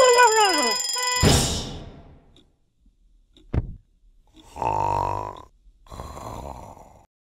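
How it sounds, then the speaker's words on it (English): A ringing alarm tone sounds at the start and stops abruptly. A short sharp burst follows, then two buzzy, groaning blasts come after quiet gaps. "An alarm is a loud sound that tells you to do something, like move over for a fire truck or wake up to go to school."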